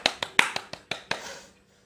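A few hand claps during a church service for Jesus, about seven sharp, close claps in an uneven rhythm lasting just over a second, then quiet.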